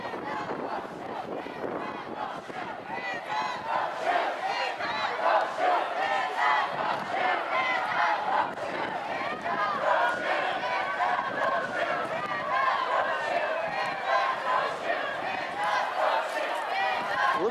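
Protest crowd in Keansburg shouting and cheering in a dense, continuous roar of many voices, loud and close, with whistles and wind buffeting the microphone.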